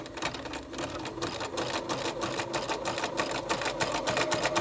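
A sewing machine stitches a rolled and whipped hem in heirloom sewing, running at a steady, fast, close mechanical chatter that builds slightly louder and continues without pause, with no talking.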